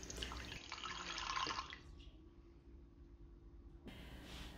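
Water pours from a tap into the ceramic base of a butter bell crock, a close splashing rush that stops after about two seconds, leaving quiet room noise, then a brief faint resumption.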